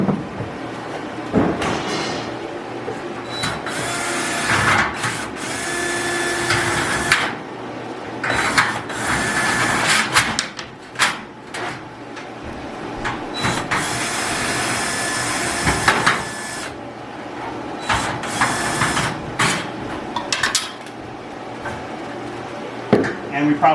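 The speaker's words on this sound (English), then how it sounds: "So we're going to remove this stud." A wooden 2x4 wall stud being pulled out during plaster and drywall work in a historic mansion, with repeated mechanical clanks, scraping and creaking bursts over about twenty seconds.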